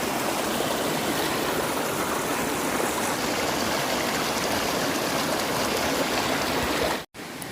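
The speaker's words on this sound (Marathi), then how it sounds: "शांतपणे वाहणारा शेजारचा झरा" A forest stream near the source of the Bhima River at Bhimashankar rushes steadily and fairly close, a dense continuous wash of flowing water that cuts out abruptly for a moment near the end.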